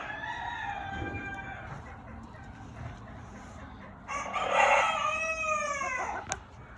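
Large fowl Mottled Chocolate Houdan chickens cluck and a rooster crows nearby, a clear full crow rising after quieter calls, with no talk.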